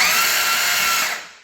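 Starter cranking a 1953 HEMI 331 V8 engine, a brief high-pitched electric whir that holds steady for about a second and then winds down, with no firing and no talking.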